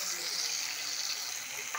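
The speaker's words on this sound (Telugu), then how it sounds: "మిక్సీ పట్టుకుంటున్న టమాటాలు వేసాను." Blended tomato and ginger sizzling steadily in a hot tempering pan for wheat rava upma, a continuous close frying hiss with no talk.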